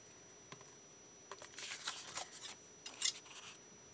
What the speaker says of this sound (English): So we'll use granite scissors and trim up here